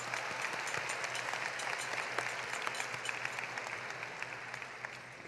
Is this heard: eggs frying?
no